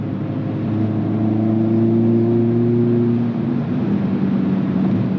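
Hyundai Kona N engine drones steadily at held-up revs while driving at a constant speed, a loud cabin hum with a slight dip in pitch near the end and no talking.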